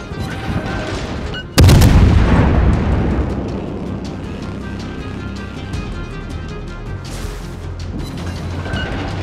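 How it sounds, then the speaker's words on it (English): World of Warships naval artillery fire, with a sudden heavy booming salvo that rolls and decays over several seconds, followed by a quieter second blast amid ongoing battle rumble. "Now the Bayern shooting at me."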